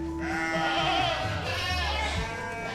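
Bleating from a PE (Peranakan Etawa) goat on a breeding farm, a sustained wavering call with a steady tone at first, close and fairly loud, with other goats and barn noise around it.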